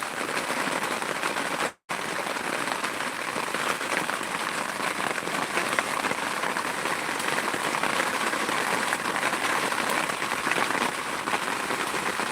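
Heavy rain pours down in Bukkacherla village, Raptadu mandal, Anantapur district, a dense, steady hiss that stays loud and unbroken apart from one brief dropout near the start, with no voices.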